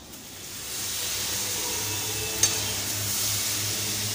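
Onions and mushrooms fry in a pan for a home dinner, giving a steady close-up sizzle and hiss with one brief clink partway through and no one talking.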